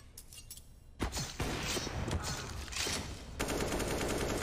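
Rapid bursts of automatic gunfire and single shots from a Counter-Strike match, loud and close, with sustained firing and a sharp burst near the end under faint background noise.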